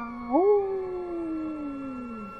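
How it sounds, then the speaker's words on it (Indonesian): A long, wavering howl rises quickly, then slides slowly downward, sustained alone against a quiet night-time background as a sound effect. "mendengar suara lolongan panjang menembus keheningan malam"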